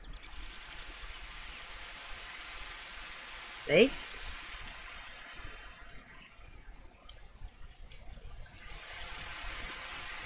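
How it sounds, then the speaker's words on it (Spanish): A small waterfall on a river in The Sims 4 gives a steady soft rushing of flowing water, faint and continuous, with someone briefly speaking over it. "aquí tenemos pues un río con su cascadita"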